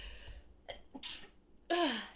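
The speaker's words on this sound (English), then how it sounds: "I have to sneeze." After a few soft breaths and throat noises, a single loud sneeze bursts out near the end, close to the listener.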